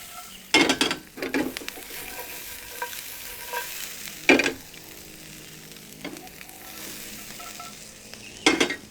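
Nuts toasting in a hot pan, a steady close sizzle underneath with a few sharp clinks and scrapes of stirring against the pan scattered throughout.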